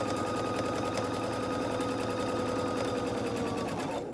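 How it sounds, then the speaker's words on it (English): A sewing machine stitches fabric for baby blocks, a close, steady rapid mechanical whirr with a regular needle rhythm that stops abruptly at the end. "we are going to start stitching about 1/4 inch in from the end"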